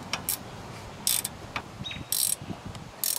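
A ratchet tightening brake caliper bolts during a brake pad change, with short bursts of sharp metallic clicking in quick strokes separated by pauses, close and fairly loud.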